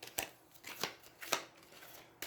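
Soft, quiet card shuffling heard as a few separate riffling bursts while a card is worked back into a deck during a tabletop game of Aeons End, with no talking.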